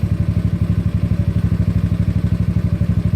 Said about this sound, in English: Opening the throttle a little bit. Close it back up quickly.